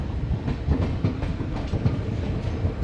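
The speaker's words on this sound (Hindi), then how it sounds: "देखिए 2 इंजनों की ट्रेन है ये, एक आगे लगा है और एक पीछे लगा है।" A passenger train with two locomotives, one at the front and one at the rear, rolling through Ayodhya Cantt railway station. Heavy low rumble with repeated wheel clacks over rail joints, close and steady, no voices.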